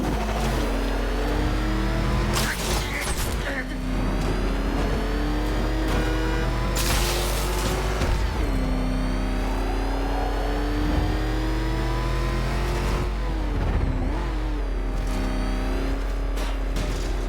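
Batmobile engine in Batman Arkham Knight, revving loudly and continuously with rising and falling pitch sweeps and occasional bursts of heavy impacts, sustained throughout without talk.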